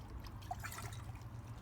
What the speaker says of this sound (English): Then we can pour the water back out of the other bottle